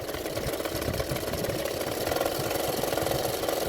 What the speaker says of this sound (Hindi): और एक सिलाई डाल रही हूँ।